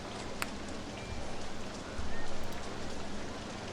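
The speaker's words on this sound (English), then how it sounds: "Well, the rain stopping will certainly help." Rain falls in the theme-park game OpenRCT2, a steady hiss of patter with soft drops that swells slightly midway and continues without pause.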